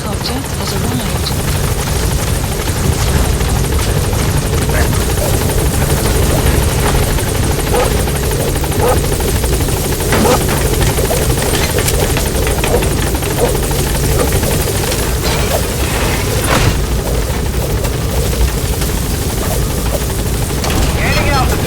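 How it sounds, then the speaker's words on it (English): Support helicopter in Metal Gear Solid 5: The Phantom Pain, a steady loud rotor roar throughout, with scattered gunfire and booms mixed in and game radio voices over it. "Support helicopter has arrived."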